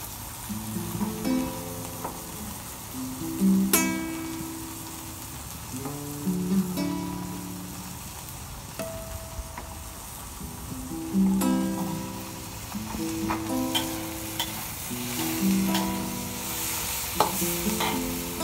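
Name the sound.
tomato added to sizzling sauteed squid with green chili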